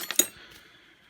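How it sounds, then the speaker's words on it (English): Allen keys handled during removal of an L00 back plate from a seized three-jaw lathe chuck, giving a few quick bright metallic clinks and rattles up close at the start, then a fading ring into quiet. "Need some Allen keys"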